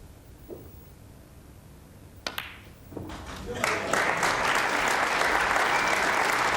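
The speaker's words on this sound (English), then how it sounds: "The capacity crowd appreciating every move he makes" A capacity snooker crowd at the 1986 World Championship final bursts into applause after a few sharp clicks, swelling into sustained, dense clapping.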